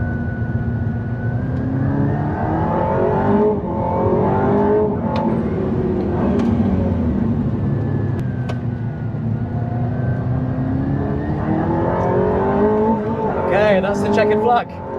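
An Aston Martin Valhalla hypercar at speed on a race track, its engine note swelling and falling with shifts through corners, heard from inside the car under near-constant talk from the driver.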